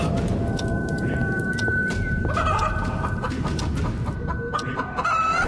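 A hen clucks repeatedly in short bursts over a busy farmyard background with other fowl sounds and a steady hum.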